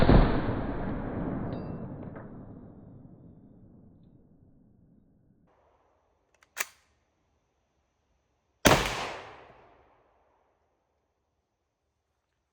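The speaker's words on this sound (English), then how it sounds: "Today, I have a Remington Model 81 chambered in 35 Remington. Let's take a few shots." Shots from a Remington Model 81 rifle in .35 Remington fired outdoors: a loud report with a long rolling echo, then two more sharp cracks a few seconds apart, each trailing off into quiet.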